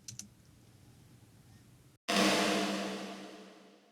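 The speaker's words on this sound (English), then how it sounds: "just threw the Valhalla Supermassive on there with the dirty snare" One snare drum hit, dirty and EQ-boosted, drowned in huge Valhalla Supermassive reverb, its wide wash lingering and fading slowly for nearly two seconds after a few faint clicks.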